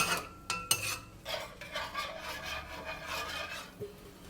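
A spoon scrapes and swishes through minced meat and water in a pan for a Chinese potato and long bean stir fry, with a few sharp clinks against the metal up close.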